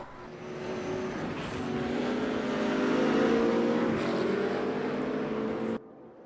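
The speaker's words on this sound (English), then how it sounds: "And the 2 cars that have kind of dropped a little too far back are Markovic and Angel" Race cars drive on a circuit with a sustained engine drone that swells as the cars draw nearer and then fades before cutting off abruptly. The sound is steady and droning, without separate passes.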